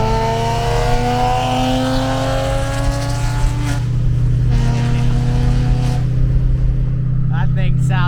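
Drift car engine revving at a drift event, a loud sustained engine drone with rising and falling harmonics close by, plus brief higher squeals near the end; people talk in the background.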